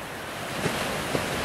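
Ocean surf at sunrise in Cabo San Lucas, a steady broad wash of breaking waves mixed with wind noise on the microphone, no voices.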